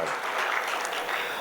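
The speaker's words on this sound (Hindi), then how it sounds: "तालियां होनी चाहिए इस बात पे" Crowd applause at a Holi celebration gathering, a brief steady patter of clapping heard faintly at a distance throughout.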